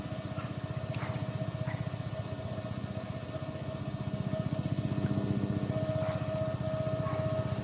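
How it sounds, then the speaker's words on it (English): A helicopter drones steadily overhead, its rapid rotor thump pulsing loud and continuous through the whole stretch, with no talk. "You hear the helicopter?"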